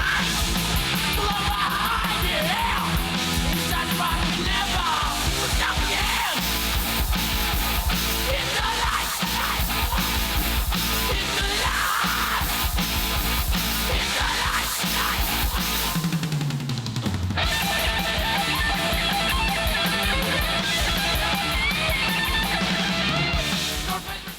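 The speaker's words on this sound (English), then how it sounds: "That's what it sounds like when four boys who haven't quite hit puberty yet play rock music." An early amateur rock band of four young boys plays over a stage sound system, loud and continuous with drums, distorted guitars and shouted vocals, the music briefly dipping before resuming.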